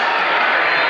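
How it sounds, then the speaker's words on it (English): A packed arena crowd at a high school basketball sectional final roars with cheering and clapping, a loud, dense wash of noise filling the whole brief moment. "Got a great crowd on hand."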